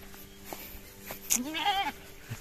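Goats bleating on a farm among crops: a close, wavering bleat rises over steady outdoor background, with short knocks and shuffles around it.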